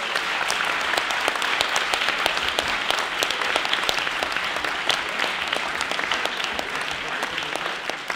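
Steady applause from a crowd, many hands clapping continuously at an even level throughout.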